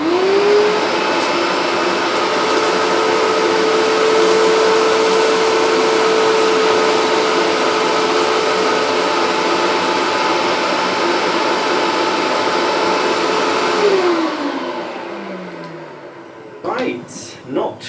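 Bissell Hydroclean upright vacuum cleaner running with its turbo brush for dry vacuuming, a loud steady motor whine held for about fourteen seconds before spinning down, followed by a few brief knocks.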